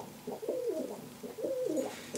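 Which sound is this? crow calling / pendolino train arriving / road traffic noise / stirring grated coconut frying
crow calling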